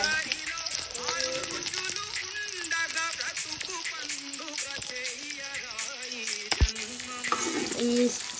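Sliced onions and dried red chillies fry in a pan with a steady, crackling sizzle, partly under a voice talking over the cooking.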